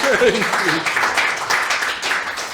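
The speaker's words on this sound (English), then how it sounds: "So a big round of applause to our guests." Audience applause for guests at a live talk event, a steady broadband wash of clapping with a voice speaking briefly at the start.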